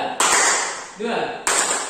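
A classroom of pupils playing a counting hand clapping game, two loud bursts of group claps more than a second apart, with a teacher's voice speaking in the gap.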